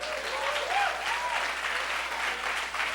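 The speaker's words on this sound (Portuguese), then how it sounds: "Aplauda o Senhor, queridos." A church congregation applauding during a worship service, dense sustained clapping from a large crowd filling the room, with a faint voice or sung note briefly audible over it.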